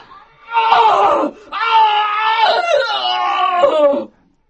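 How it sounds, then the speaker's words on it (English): Anguished human screams ring out in the darkness on a moor, two long wailing cries with a short break between them, loud and close with no other sounds. "We heard some more terrible screams."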